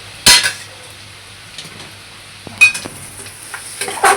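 Masala is roasted and stirred in a pan for stuffed bitter gourd, with sharp metal spoon knocks and scrapes against the pan over a faint sizzle, including a loud clank early and several more near the end.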